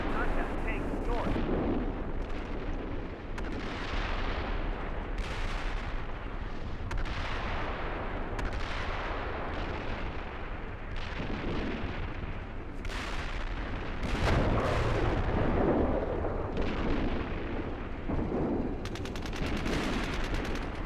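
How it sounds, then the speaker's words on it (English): Forward artillery fire during a tank engagement between valleys, with steady rumbling booms and blasts rolling through the whole stretch while radio voices talk over it. "There's a lot of forward artillery going through."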